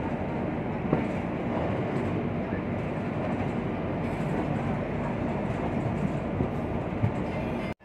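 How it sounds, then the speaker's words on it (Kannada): Deccan Express train rolling out of Pune Junction platform 6 past the loco shed, heard from on board as a steady, moderate rumble with soft wheel clatter and faint background noises throughout. "ನಮ್ಮ ಟ್ರೈನ್ ಇವಾಗ ಪುಣೆ ಜಂಕ್ಷನ್ ಪ್ಲ್ಯಾಟ್ಫಾರ್ಮ್ ನಂಬರ್ 6 ಓಡ್ತಾ ಇದೆ"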